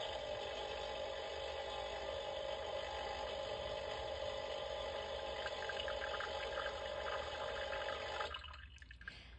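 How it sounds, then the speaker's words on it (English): A toy coffee maker plays a water-dripping sound, a steady electronic gurgling and trickling loop heard close up, cutting off near the end. "Sounds like water dripping."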